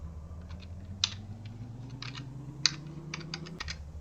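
Fingers type on a computer keyboard in quick irregular bursts of clicky keystrokes, with two sharper, louder key hits, all set over a low steady hum that slowly rises in pitch.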